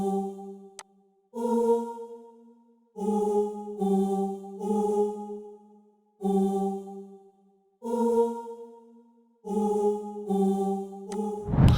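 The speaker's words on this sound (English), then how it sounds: "It's the female whole choir from Expand 2." A female choir vocal sample from FL Studio's Expand 2 plays short sustained chord stabs in a rhythmic pattern with gaps of silence between, clean and upfront.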